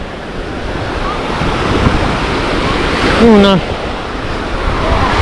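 Sea waves and gusty wind on the beach at Anapa during a small storm, a steady broad wash of surf with wind buffeting the microphone, while a person talks briefly over it.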